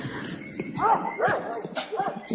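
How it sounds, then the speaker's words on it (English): Dogs bark in the horror video game Pathologic, several sharp yelping barks in quick succession over a steady ambient game background. "Dog barking."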